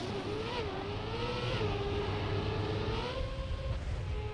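A car in a video game drives with a sustained engine drone whose pitch rises and falls as it accelerates and eases off, loud and continuous with no voices.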